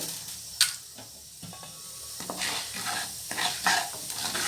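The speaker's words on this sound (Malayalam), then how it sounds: "കടുക് പൊട്ടിയതിന് ശേഷം ഉഴുന്ന് പരിപ്പ് ഇട്ട് കൊടുക്കാം." Urad dal drops into hot oil after mustard seeds have popped, bringing up a crackling sizzle with sharp pops and a ladle scraping and stirring the pan, close and continuous with no voices.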